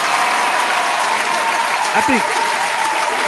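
A studio audience breaks into a sustained round of applause during a mixshow, the dense clapping steady and loud throughout while a voice briefly speaks over it.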